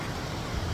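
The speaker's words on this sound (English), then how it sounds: "I hope you're going to hear me now because of this wind." Broadband wind roar buffets the microphone in a brief, steady gust with a heavy low rumble, on a woodland walk near Stocksbridge.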